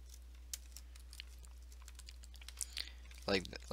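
Keys tapped on a computer keyboard while a command is entered to create a Java JAR file; sparse, faint clicks near the mic, ending in a quicker burst of typing.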